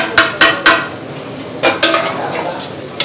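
Onions frying with semolina in a pan for uppittu, a spoon stirring with sharp scraping strokes, three quick ones then a few more after a pause, loud and close over a steady sizzle.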